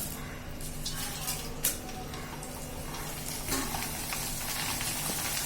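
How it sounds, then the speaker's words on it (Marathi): Corn poha fry in hot oil for makyacha chivada, a soft, steady sizzle close by with a couple of light clinks of a utensil against the pan. "तेल आता गरम झालेलं आहे थोडे थोडे पोहे घालून आपल्याला हे मक्याचे पोहे तळून घ्यायचे"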